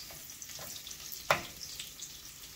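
Garlic and bacon frying in a pan give a soft, low sizzle throughout, broken once by a brief sharp scrape or clink near the middle.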